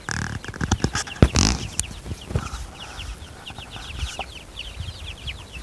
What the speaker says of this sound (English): We have silkies and bantam chickens.